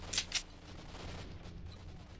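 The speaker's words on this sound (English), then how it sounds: "I hear gunshots everywhere." Two sharp gunshots crack in quick succession near the start of a multiplayer shooter game, followed by a low rumbling background with faint distant shots.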